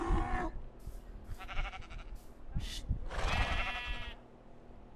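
Sheep bleating in Minecraft, several harmonic bleats rising above a steady background hum, moderately loud and close, repeated at irregular intervals across the span.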